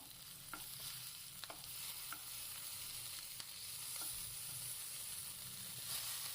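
Ivy gourds fry over medium flame in a pan while a spoon stirs them, giving steady sizzling with scattered scraping clicks throughout, with no talking.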